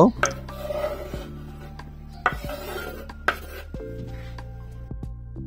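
Chopped cucumber being mixed into a broccoli salad in a bowl, with rubbing and scraping of a utensil and a few sharp clinks against the bowl, close by, over a faint steady background hum.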